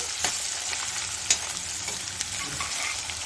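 Finely chopped onion frying in a pan for a rava ragi breakfast dish, a steady soft sizzle with occasional light stirring clicks, close and on its own without talk.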